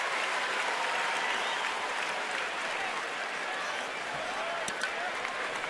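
A big crowd roars and applauds steadily at a Phillies vs. Nationals baseball game on a hot Saturday night in Washington, a dense wash of cheering that holds throughout.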